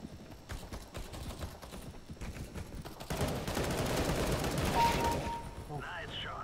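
Rapid gunfire in the video game CS:GO, bursts of clattering shots growing denser and louder in the second half, with faint game effects throughout.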